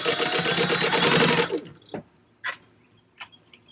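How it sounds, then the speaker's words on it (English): A sewing machine runs in one steady, loud burst, stitching fabric pieces together with a 1/4 inch seam and a 3-stitch length for a bucket bag, then stops, followed by a few faint clicks and handling noises. "with the 3-stitch length again, you're going to sew them together with a 1/4 inch seam allowance"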